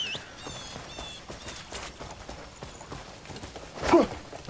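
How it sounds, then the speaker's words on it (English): Horse hooves clip-clopping in the game Crimson Desert, a quick irregular run of light hoof knocks under game ambience, with a louder thump near the end. "Horsey!"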